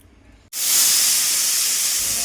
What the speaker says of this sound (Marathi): तर कुकरला आता 3 ते 4 शिट्या झालेल्या आहेत.